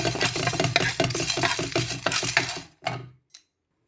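Ivy gourd (kovakkai) being fried in a pan with rapid, rhythmic stirring scrapes and clatter over a sizzling bed, ending abruptly with a couple of final scrapes and silence.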